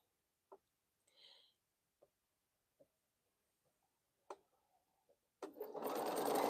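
A home sewing machine stitches quilt squares cut from Crown Royal bags, starting with a few quiet taps and short stitch bursts before breaking into a loud, sustained run near the end.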